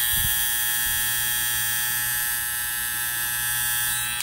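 A Saber 2 cordless electric hair clipper runs steadily and fairly loudly, a constant high-pitched motor whine with a faint low hum held throughout, alone with no talking.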